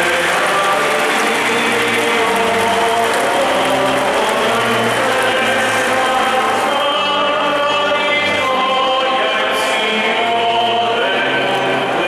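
Long sustained applause from a crowd at the San Gennaro blood miracle ceremony in Naples, filling the space loudly and evenly from start to finish with dense clapping.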